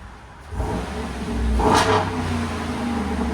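A 5.7-liter Hemi V8 in a Dodge Durango R/T with an LCGP exhaust revs up loud and close, its note rising to a raspy peak before settling into a steady, throaty drone.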